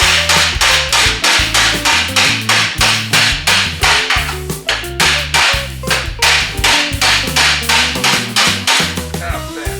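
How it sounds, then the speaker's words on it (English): Rapid, loud metallic taps of a body hammer on a junkyard car's bent sheet metal, struck in a steady quick rhythm with ringing overtones, no voices. "I need my body hammer"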